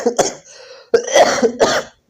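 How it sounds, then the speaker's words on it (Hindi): A close, dry cough from a cold comes in several bursts with a short pause partway through, followed by a rougher run of coughs and throat-clearing. "सर्दी की वजह से खांसी भी आ रहे हैं"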